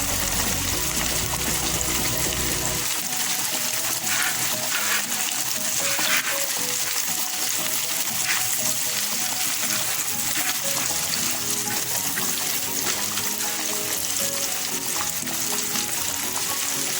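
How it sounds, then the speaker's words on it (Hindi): Rohu fish pieces frying in hot oil, a dense, loud, continuous crackle and sizzle heard up close, with occasional brighter pops and no talking. "ये देखिए कैसे फ्राई हो रही है हमारी फिश।"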